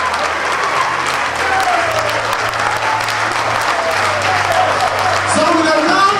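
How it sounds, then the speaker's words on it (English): Loud, sustained audience applause for Miss Ghana Ireland pageant contestants, thick continuous clapping and crowd noise with a low hum and voices mixed in throughout. "I want us to, with a big round of applause, congratulate our contestants who were not able to win."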